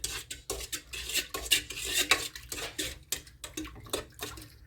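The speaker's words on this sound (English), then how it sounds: "So now we're just going to go ahead and I'm going to stir it with us." A spoon stirs a yeast and sugar mixture in a bowl, giving quick repeated scraping and clinking strokes in an uneven rhythm, close and moderately loud.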